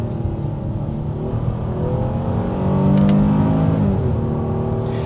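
Honda Pilot Touring 2021 V6 engine with a 9-speed automatic revving steadily, a sustained close engine drone that swells slightly in pitch and loudness midway, no talk.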